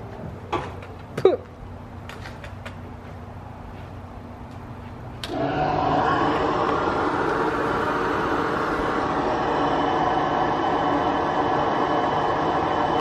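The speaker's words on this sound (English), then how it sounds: "That sound is the blower." A bilge blower on a boat's engine compartment switches on partway through, a steady broadband whir that holds loud and even after a few clicks and knocks in a quieter opening stretch.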